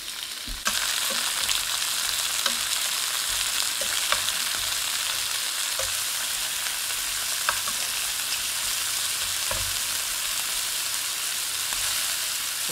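Shrimp fry in a skillet with a loud, dense, steady sizzle that starts abruptly and holds evenly throughout, with a few faint ticks scattered through it.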